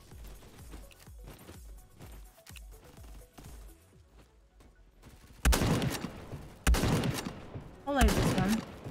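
Gunfire in the online shooter game Bad Business: a run of quick regular shots at first, then three loud, sharp bursts of rapid fire separated by short pauses.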